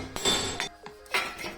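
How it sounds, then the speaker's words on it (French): Hammer striking the steering knuckle of a Toyota KDJ120 during front wheel bearing removal, giving two or three sharp metallic blows with brief ringing between them. "Utilisez un marteau pour décoller la fusée du porte-noyau."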